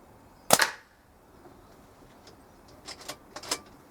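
A single sharp gunshot cracks out near the start, followed by quieter faint clicks and pops a few seconds later, with near silence in between.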